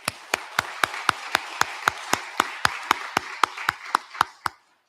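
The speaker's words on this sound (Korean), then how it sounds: "우리 이들을 축복하면서 한번 박수하겠습니다." Church congregation clapping together at a Sunday Thanksgiving worship service, a steady run of about seventeen crisp, evenly spaced claps over a soft bed of scattered applause, ending abruptly in silence.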